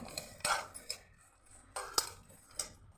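A spoon stirs sesame and poppy seeds roasting in a pan with chillies, giving a few quiet, sparse clinks and scrapes against the metal with soft sizzling between them.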